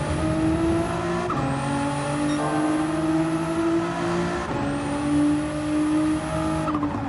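A race car engine from a sim racing game holds a steady high drone at full throttle, with gear-shift dips around the second and fifth seconds, loud and close throughout with no talking.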